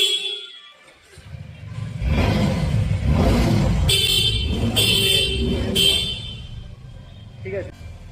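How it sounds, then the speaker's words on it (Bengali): A newly fitted dual horn on a Suzuki V-Strom SX 250 motorcycle sounds three short, loud, bright blasts in a row, near the microphone, after a stretch of people talking and background noise. "গাড়িতে ডুয়েল হর্ন লাগানো কমপ্লিট।"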